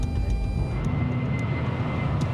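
An airliner climbs steadily after a normal takeoff, its engines giving a constant broadband roar with a faint steady whine, heard alone from inside the plane.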